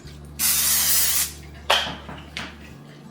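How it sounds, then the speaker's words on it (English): Cooking spray hisses from an aerosol can into an 8x8 baking dish in one long close burst, followed by a few shorter, fainter spritzes and light clinks of the can. "I'm gonna go ahead and spray it with my cooking spray."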